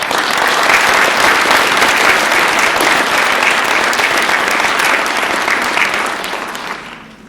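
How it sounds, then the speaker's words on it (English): A large audience at an evening event breaks into loud, dense applause that holds steady for several seconds before fading out near the end. "Please give them a big round of applause."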